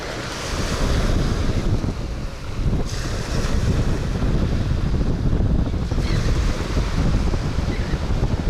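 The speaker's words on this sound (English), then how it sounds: "That wind is getting crazy, y'all. The wind gusts." Strong wind gusts buffeting a Florida fishing beach, a loud, constant roar of wind noise with surf blended in, steady throughout and with no talking.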